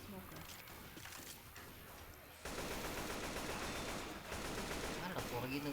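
Gunfire from the video game Left 4 Dead 2 comes in rapid bursts. The shooting gets louder and denser halfway through and sits over a continuous game soundtrack.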